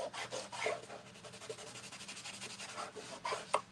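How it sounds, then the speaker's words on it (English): A tissue rubs ink into a journal page in quick, soft rasping strokes, close and quiet, repeating steadily with no talk. "if you take a tissue and kind of rub it in"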